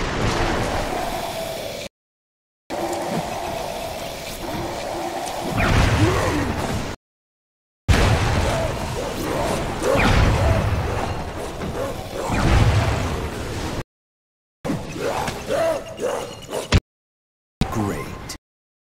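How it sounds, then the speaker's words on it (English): Grenade explosions in the video game Crackdown 2 burst out in a chain of loud booms and crashes, broken by short silent gaps, with brief whooshes and a sharp pop near the end. "Use your grenades to blow these f***ers."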